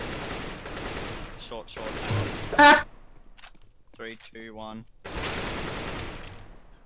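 Desert Eagle gunfire in a CSGO match: a few sharp, loud shots in bursts between quieter stretches, with players talking over the action.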